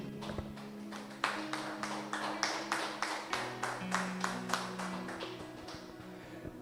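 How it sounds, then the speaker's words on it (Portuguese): A church congregation claps together for several seconds in rhythmic, fairly steady beats at moderate volume, with a sustained tone running underneath. "Uma salva de palmas para esse Deus, meu."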